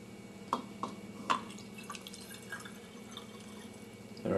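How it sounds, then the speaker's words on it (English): A liquid is poured into a cup for a towel test, heard as a few brief splashy drips and trickles, close and fairly quiet, ending in a louder rush of pouring. "So I'm going to pour the liquid"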